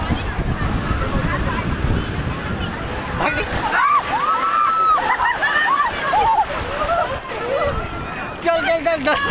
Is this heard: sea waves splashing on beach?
yes